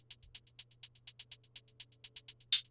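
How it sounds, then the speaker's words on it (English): Crisp hi-hats tick in a steady, fast pattern through a trap beat, loud and dry. They play alone over a faint low hum, and one brighter, longer open hat lands near the end. "Starting off, we have the hats, which sound like this"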